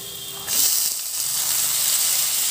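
Boiled chana dal tossed into hot oil with softened onions, giving a steady loud sizzle and steamy hiss that jumps up as it hits the pan and keeps crackling evenly with no voices.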